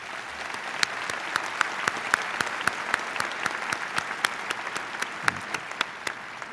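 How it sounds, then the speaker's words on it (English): Applause from the audience at a Virginia Tech graduate school commencement in spring 2012 sounds as an even, moderately distant patter of many hands, with individual sharp claps ringing out at a fairly regular pace. "please recognize with your applause these representatives"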